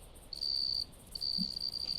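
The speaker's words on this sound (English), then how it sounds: "I don't think I've actually heard crickets before." Crickets in the outdoor ambience of the hunting game Carnivores, a steady high-pitched trill in two long bursts separated by a short gap, clear and alone.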